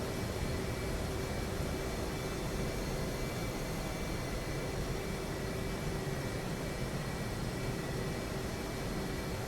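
Steady, loud whine and broadband roar of an F-18 jet engine idling and taxiing on a supercarrier flight deck in the DCS flight simulator, constant and unbroken with a sustained tonal hum.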